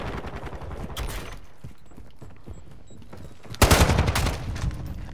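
Gunfire in Call of Duty: Modern Warfare multiplayer, rapid bursts of automatic shots, with a loud dense volley near the end.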